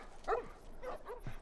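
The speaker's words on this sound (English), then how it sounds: "Oh, the wild dogs." Wild dogs in The Last of Us give faint, distant barks and yips, three short calls spread over a moment against quiet background noise.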